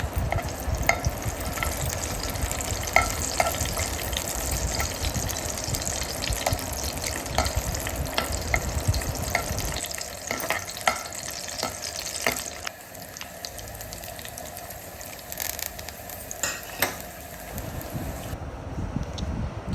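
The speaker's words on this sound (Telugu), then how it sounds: "ఎల్లుల్లిపాయలు వేసాక కొంచెం వేగనివ్వాలి" Garlic frying in hot oil for bottle gourd curry, a busy crackling sizzle with stirring scrapes, first dense and loud, then thinning to a lighter, steadier fry.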